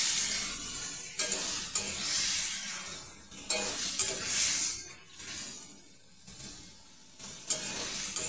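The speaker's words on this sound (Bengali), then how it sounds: "ভালো করে এটাকে দিয়ে এবারে কষাতে থাকবো।" Food being stirred and fried (kasha) in a pan with mustard paste, giving a steady sizzle and repeated scraping stirs in uneven bursts, close and fairly loud.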